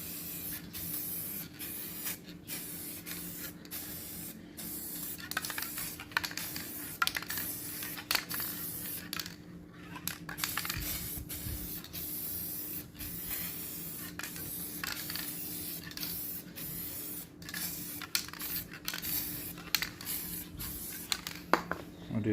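Glacier white paint sprays onto Jaguar XJ40 headlight surrounds in steady, close hissing bursts, with brief pauses between passes and a faint hum underneath.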